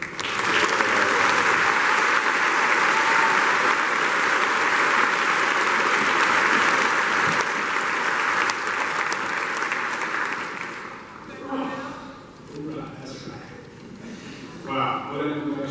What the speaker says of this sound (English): please join me in giving a hearty round of applause to my friend and former student